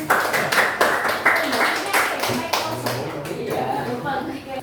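Students in a classroom clap in a quick rhythmic burst, sharp distinct claps in a patterned beat that slows and thins out, with a voice starting to talk as the clapping fades.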